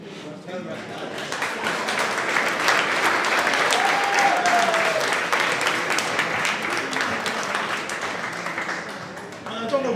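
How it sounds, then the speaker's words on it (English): A community crowd at a county council awards ceremony claps and cheers in a long, sustained burst of applause, swelling in the middle with a few whoops before tapering slightly at the end. "Biggest cheer we've had so far"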